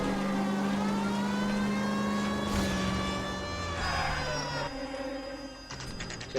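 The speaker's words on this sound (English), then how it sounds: "Handbrake turn and everything." A car in the video game L.A. Noire whips through a handbrake turn, its engine revving steadily and loudly throughout, with a mechanical whir and rattling near the end.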